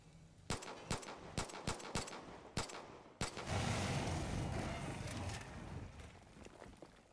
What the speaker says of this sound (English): That was a horrible explosion sound.